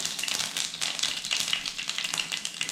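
Mustard seeds and a pinch of fenugreek sputter and crackle in hot oil for a green mango curry, a dense, close stream of rapid popping and sizzle with no voices.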